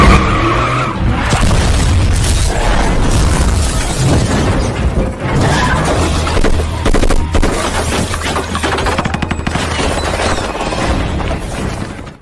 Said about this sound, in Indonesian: iring-iringan mobil mereka diserang dan mobil yang paling depan langsung hancur terbakar